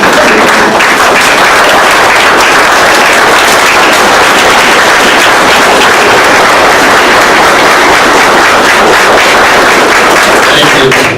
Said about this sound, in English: That deserves a standing ovation.